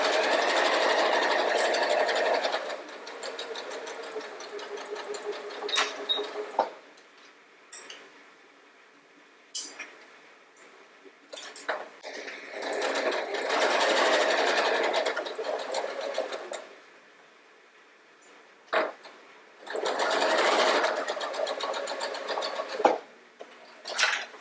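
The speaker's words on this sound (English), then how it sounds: "I'm going to sew these 3 together separately, and then I will sew this bottom half to the top half." A sewing machine stitches quilt block pieces together in three long runs of rapid, steady whirring, separated by pauses with small clicks and handling noises. It is close and loud, with no speech.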